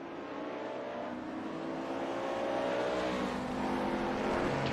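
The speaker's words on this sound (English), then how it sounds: "There's another driver in the pits by the sounds of it." A race car hums steadily in the pit lane of Raceroom DTM 92 at Zandvoort, its engine tone holding a low drone that gradually swells louder, with no voices.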